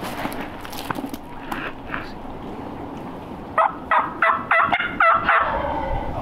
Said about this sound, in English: We might have two different gobblers here.